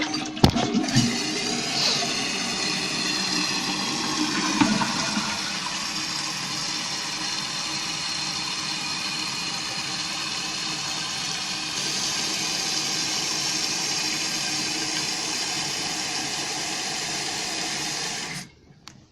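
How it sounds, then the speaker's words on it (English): A 1995 Mansfield Alto toilet flushes, its tank water rushing and hissing steadily for about eighteen seconds before cutting off abruptly, close and without talk. "I'll flush it again."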